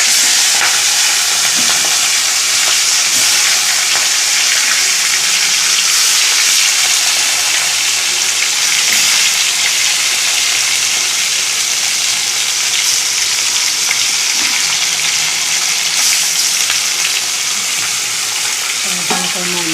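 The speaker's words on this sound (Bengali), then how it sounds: "এবারে মাছ তো কড়কড়ে করে না ধরলে হবে না ভালো লাগবে না" Bhetki fish fries in hot oil in a kadai, a loud continuous crackling sizzle that holds steady throughout with no voices.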